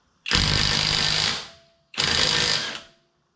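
A SeyVum half-inch impact wrench loosens a wheel bolt in two loud, close bursts of rapid hammering, each about a second long, separated by a short pause.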